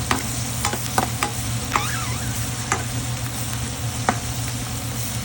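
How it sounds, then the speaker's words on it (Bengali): Pieces of coral fish fry in hot oil for dopiaza, giving a steady, close sizzle with a few sharp clinks and scrapes from stirring, and no voices. "এটা ভাজতে হচ্ছে আপনার হালকা বাদামি কালার যখন আসবে"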